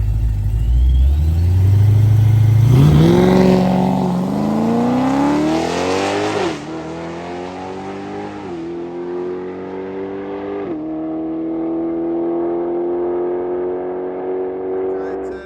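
A Ford Mustang race car on a race track accelerates hard close by, its engine note climbing steadily with several gear shifts that drop the pitch before it rises again, loud throughout.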